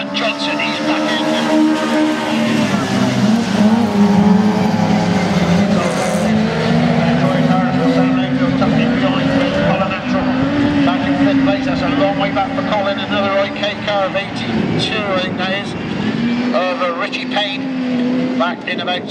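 Race cars passing on a circuit, among them a Cambridge car, with engine tones rising and falling as they go by, loud and continuous under steady commentary talk.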